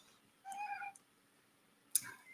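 A pet cat meows once, a drawn-out mid-pitched call heard close by and fairly quiet, followed a second later by a brief higher chirp-like sound in a calm indoor morning setting.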